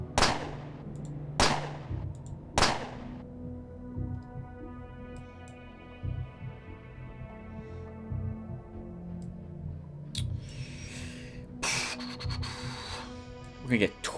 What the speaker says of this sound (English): Let's just shoot